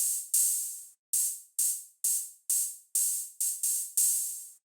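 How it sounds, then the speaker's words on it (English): Bright, hissy analog cymbal hits from a minimal deep house drum layer, about ten short bursts with quick decays, sounding in a syncopated rhythm alone. "And then the last drum layer is this analog cymbal sound, which sounds like this and plays this kind of rhythm."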